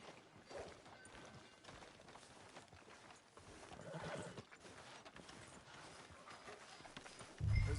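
A horse in the video game Red Dead Redemption 2 clip-clops steadily on the ground throughout, then gives a loud, close neigh right at the end.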